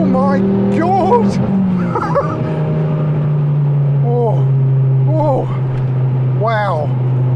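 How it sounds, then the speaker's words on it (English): A turbocharged Ford Focus ST with a Quaife differential pulls hard in fourth gear, the engine drone steady and loud under a driver's animated talking and exclamations. "But you hit four, the turbo I think must be fully spooled at that point."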